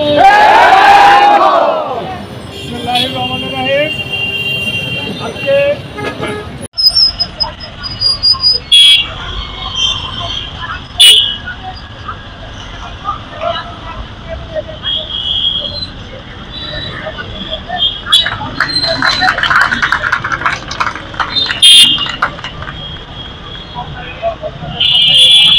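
A street march by a district volunteer party in Manikganj, Bangladesh, shouts slogans. A leader calls out through a loudspeaker and the crowd answers in rhythmic, loud chants over the noise of nearby traffic.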